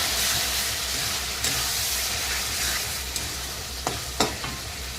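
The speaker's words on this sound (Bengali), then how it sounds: "আমি এখন এর ভিতরে দিয়ে দেবো লঙ্কা বাটা।" Chili paste of dried and green chilies frying with ginger and garlic and cumin in hot oil, a close, steady hiss of sizzling broken by a few sharp spatula scrapes and taps toward the end.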